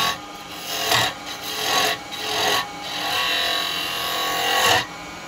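Sandpaper pressed against a spinning wooden bottle stopper on a woodturning lathe, giving a steady rasping rub that swells in several short passes against the continuous hum of the lathe.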